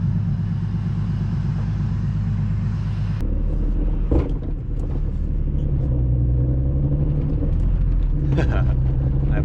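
A turbocharged BMW E36 with a loud exhaust drives along, its deep engine and exhaust rumble droning steadily and close throughout, shifting in tone a few seconds in as the car changes pace.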